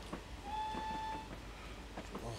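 A Castle Class steam train crosses a wide, high two-track bridge in a train video game, a rumbling run with a single steady whistle tone in the middle and faint clatter.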